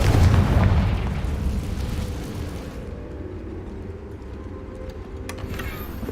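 A Confringo spell in Hogwarts Legacy goes off as a loud, close blast. Its rumbling boom fades gradually over a few seconds, and a faint click follows near the end.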